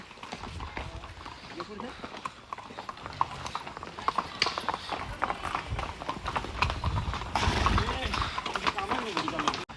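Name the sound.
horse hooves clip-clopping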